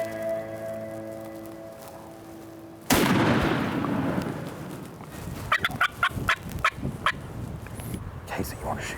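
On a North Carolina turkey hunt in Mitchell County's Roanoke game lands, a sharp gun blast booms, then a wild turkey gobbler answers with a burst of loud, rattling gobbles over outdoor ambience.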